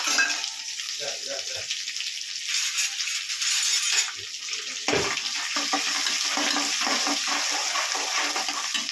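Sesame seeds, curry leaves and chopped green chillies hit hot oil as a tempering for millet muthiya, giving a loud, continuous sizzle and crackle with sharp spits that swell as each ingredient drops in.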